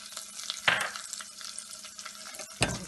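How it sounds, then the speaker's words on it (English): Masala with turmeric and hing sizzling in a pan as it is stirred, soft frying crackle with a couple of sharper scraping bursts, close and fairly quiet. "Stir it well."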